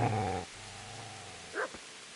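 A dog growls low and steady in Kingdom Come: Deliverance, a loud rumbling snarl in the opening half second fading to a quieter sustained growl, followed by a brief higher whine.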